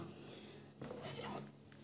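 A knife works through a red onion on a cutting board for Hungarian goulash, giving a steady rasping, scraping texture with brief louder bursts of cutting, close up and with no talking.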